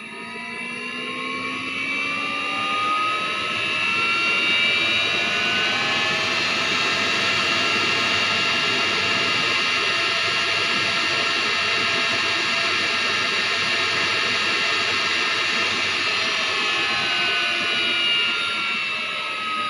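A Planar 44D 12-volt diesel air heater runs at maximum power on a tabletop, giving a steady, loud blower roar with a faint whine on top that holds for the whole stretch without pauses.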